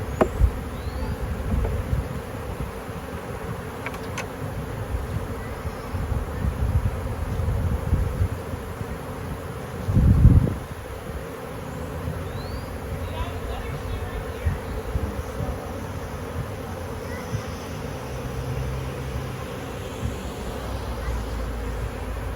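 A massive honey bee swarm hums steadily as it is moved into a new hive, a dense buzzing drone held close throughout, with a brief louder knock or thud midway and quiet handling noises.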